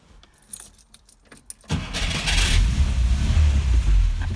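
A Škoda 105L, a decommissioned car with a cold engine, has keys jangle in the ignition before the starter cranks and the motor catches, settling into a loud, steady idle.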